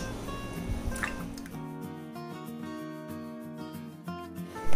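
Soaked wheat is kneaded and squeezed by hand in water, making soft wet squishing and dripping sounds. A steady musical tone hums underneath throughout.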